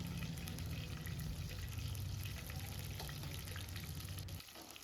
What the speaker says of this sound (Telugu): బాగా ఫ్రై చేసుకోవాలండి గోల్డెన్ కలర్ వచ్చే వరకు.